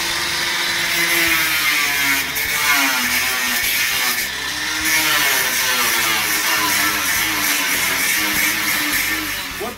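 Small angle grinder cutting the edges of wire mesh for quail cages: a loud, continuous high whine with a wavering pitch as the disc bites the wire, running steadily throughout.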